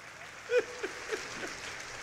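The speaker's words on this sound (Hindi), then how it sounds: "जो समझ जाए वो ताली बजा सकते हैं" Audience applause at a Hindi comic poetry gathering (hasya kavi sammelan): a short, fairly quiet patter of clapping from a crowd, with a few brief vocal bursts over it.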